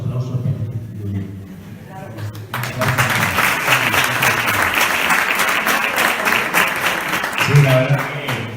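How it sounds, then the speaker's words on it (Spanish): Someone speaks briefly before an audience bursts into loud, sustained applause at a literary round table at the La Alberca book fair; the clapping continues steadily and a voice briefly returns near the end. "ahora los aplausos para ti."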